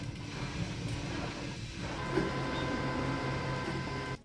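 An Anycubic Kobra S1 3D printer runs indoors beside a filament dryer, giving a steady low whir of fans and motors with faint tonal whines, moderate and continuous until it cuts off at the end.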